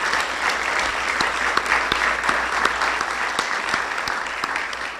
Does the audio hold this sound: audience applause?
yes